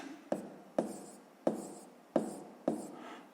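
A pen writes out a math solution in a series of five sharp, evenly spaced strokes, each a quick close tap followed by a short fading scratch, no voices.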